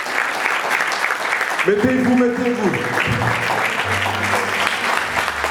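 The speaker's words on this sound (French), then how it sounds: "Voulez-vous applaudir le Bishop?" Church congregation applauding a bishop at an anniversary gala, sustained crowd clapping heard beneath someone speaking and a few tonal background sounds.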